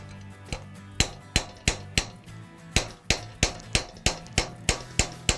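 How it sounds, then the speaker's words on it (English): A hammer strikes metal being formed into a concave bracelet, a steady run of about sixteen sharp, ringing close blows at a quick, even pace, each with a short metallic decay. "Now as you hammer, the metal becomes work hardened."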